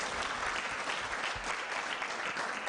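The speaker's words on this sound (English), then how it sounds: "can we give this wonderful lady a better round of applause?" An audience gives a round of applause at a university event, with dense, steady clapping from a crowd filling the whole moment at an even level.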